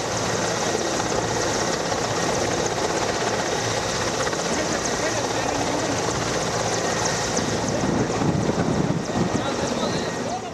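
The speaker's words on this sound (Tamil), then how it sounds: "அதற்கான ஒத்திகையில் சீட்டா ஹெலிகாப்டர்கள் தேசிய கொடி மற்றும் விமானப்படையின் கொடியை ஏந்தி" Indian Air Force Cheetah helicopters carrying the national flag and the Air Force flag fly during an air show rehearsal at Chennai's Marina beach, a loud continuous rotor roar with wind buffeting the microphone throughout.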